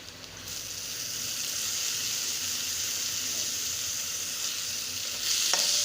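Chopped onion with a pinch of salt sautés in a pan for kanda poha, giving a steady, even hiss of frying that runs unbroken, with a brief clink near the end.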